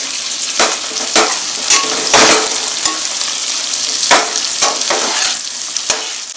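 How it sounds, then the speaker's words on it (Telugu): Steady loud sizzling of tomatoes, coriander and vegetables frying in a pan, with intermittent scraping and stirring clatters throughout. "ఇప్పుడు దీన్ని ఫ్రై చేయాలి."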